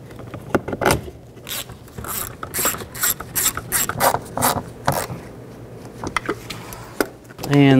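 A hand ratchet snugs down the sideview mirror bolts on a 2019-20 Chevy Silverado, bursts of sharp clicking strokes up close, with brief talk between the bursts.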